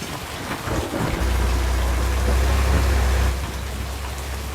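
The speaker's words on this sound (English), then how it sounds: "I am very low health because I was kind of just sitting out here in the hail." Hail falling in the tornado video game Twisted, a dense, steady hiss of pelting ice with a deep rumbling layer rising and then easing, loud and continuous without voices.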